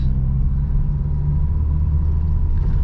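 A car engine rumbles loudly and close in second gear under throttle, a steady low drone that holds its pitch without clear revving.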